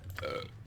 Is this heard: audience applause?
no